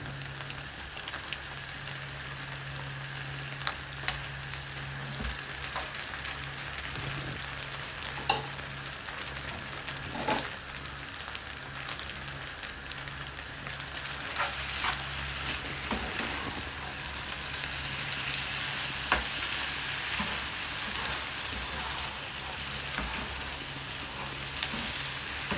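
Char kway teow, flat rice noodles in sweet sauce, sizzles continuously in a pan or wok while being stirred and tossed, with occasional clinks and scrapes over a steady frying hiss and a faint background hum.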